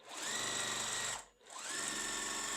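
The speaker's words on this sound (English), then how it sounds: "I'm going to sew right down the middle like that" Sewing machine stitching fabric squares down the middle for a quilt block, running in a fast steady whir that stops briefly then starts up again, close and continuous.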